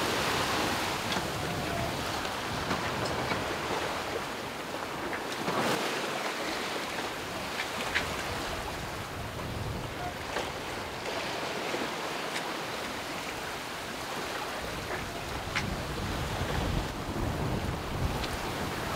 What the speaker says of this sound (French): où on voit les vagues se casser dessus